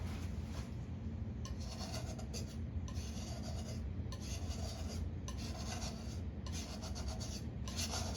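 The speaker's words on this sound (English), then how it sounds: "scrape this green off the palette" A brush or palette knife scrapes green paint off a painter's palette in repeated rasping strokes, steady and close, with no talking.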